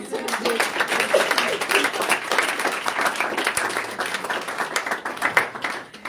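Audience clapping to acclaim Jesus at a French Christian talk-show conference, dense and continuous applause lasting about six seconds from a sizable crowd, with faint voices mixed in.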